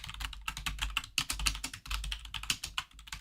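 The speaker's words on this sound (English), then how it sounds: "Sorry about all the typing." Fast, uneven clicking and clacking of a computer keyboard being typed on, keys striking close and crisp in quick clusters with tiny pauses, no voices.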